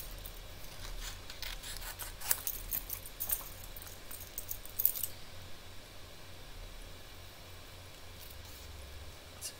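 Scissors fussy-cut paper around letters for a rustic Stampin' Up! crate, with faint quick snips clustered early on, then a quiet steady background.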